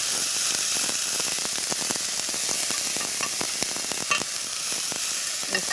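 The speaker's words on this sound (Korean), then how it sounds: "저는 양파 볶을 때가 가장 기분 좋더라고요" Onions fry in hot oil in a pan, a dense, continuous sizzle close up with frequent small crackles and pops throughout, no talking.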